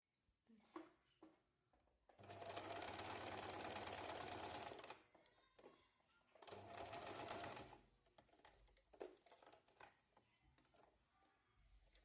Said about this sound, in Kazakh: Және екінші жағын дәл осылай тігіп аламыз.